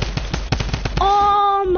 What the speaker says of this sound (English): he's the one with the drum gun